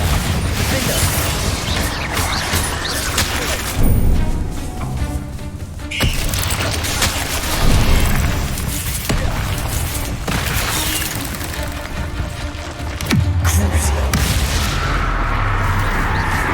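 Bombarda explosion spells in Hogwarts Legacy: loud, dense magical combat with booming blasts near 4, 8 and 13 seconds over continuous crackling effects and rumbling, with no talking.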